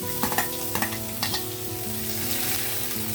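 Carrot, curry leaves and green chili fry in hot oil with ginger and tempering spices in a pan, a steady close sizzle broken by a few scraping stirs near the start.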